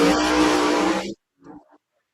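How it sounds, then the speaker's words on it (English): Drag race cars, including a 1956 Pontiac Chieftain wagon with a Butler performance engine, roaring loudly at Holiday Raceway in a dense, sustained engine blast that cuts off abruptly, followed by a faint, brief distant sound. "we got a good drag race right here"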